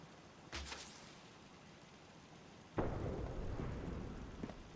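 Fireworks launcher explosions in Fallout 4: a sharp pop early on, then a loud, sustained rumbling blast that swells and rolls on for several seconds, heard from some distance with no talking.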